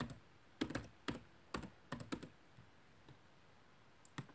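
Short text is typed on a computer keyboard in a quick burst of close, distinct key clicks that thin out to a few scattered taps in a quiet room.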